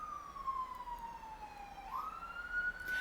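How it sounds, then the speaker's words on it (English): An emergency vehicle siren wails faint and distant, one long falling and then rising tone over a steady background hum of traffic. "Sirens."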